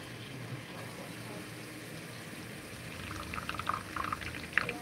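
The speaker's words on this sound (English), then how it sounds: "Then I add like a 1/3 cup of water," Water poured in a thin stream into a pot of rice with a little oil, with soft splashing and trickling in the last couple of seconds over a quiet room hum.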